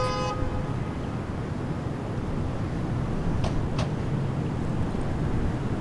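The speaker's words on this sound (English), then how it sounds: "Someone just honked at me and waved." A car horn gives a short, clear toot at the start over steady road and crowd noise, followed later by a couple of faint, brief clicks or taps.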